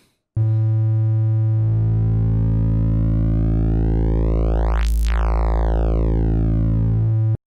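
A single sustained buzzy Roland GAIA 2 synthesizer tone using the fatness wave shape, its filter sweeping up to a bright peak and back down, steady and loud throughout.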